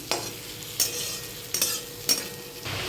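A tomato, onion and ground cumin masala for a raw banana curry sizzles in oil while a spoon scrapes the pan in four sharp strokes, close and steady with no voices.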